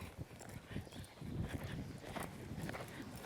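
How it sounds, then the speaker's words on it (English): Horse hooves clip-clop on the ground in an irregular, fairly close gait as a horse is worked toward a lope, with light rustling alongside. "Want to be able to work up to a lope."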